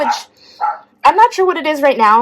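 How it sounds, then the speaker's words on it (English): A pet dog barks a few short, sharp times close by, the yaps mixed in with someone talking over them. "That's my dog."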